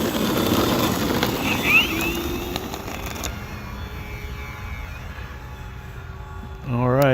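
An FMS P-47 Razorback RC model airplane taking off, its electric motor a loud whining drone that fades into the distance, with a fresh surge of buzzing near the end.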